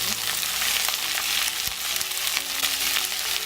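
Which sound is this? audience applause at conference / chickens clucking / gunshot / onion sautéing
onion sautéing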